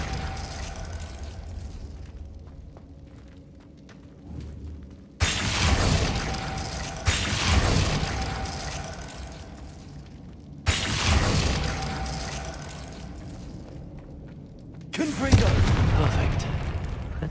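The Confringo fire blast spell in Hogwarts Legacy goes off as several loud booming explosions, each sudden and followed by a rumbling tail, over quieter game ambience.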